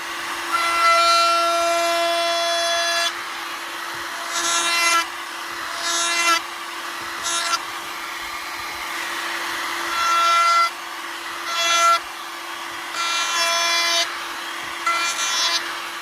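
A power router runs a chamfer along the long grain of oak with a steady high whine, pulsing in and out in repeated passes of a few seconds each.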